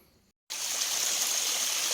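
After a brief moment of silence, a steady rush of flowing water fills the clip, a continuous hiss of a stream close by.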